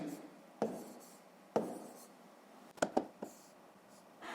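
Pen strokes writing numbers for a sixth-grade math exercise, a few short separate taps and scratches spaced over several seconds, close and quiet.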